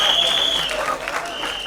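Audience applause at a live comedy roast, a dense wash of clapping filling the short stretch, with a steady tone running beneath and faint voices mixed in.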